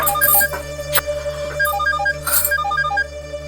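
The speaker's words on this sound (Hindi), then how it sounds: "फोन पे फोन किए जा रही" A mobile phone ringtone plays a repeating melodic pattern of short electronic tones over a steady low hum, loud and close, cycling several times without pause.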